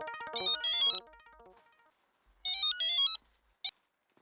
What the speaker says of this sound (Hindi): अब्दुल को फोन लगाता हूँ।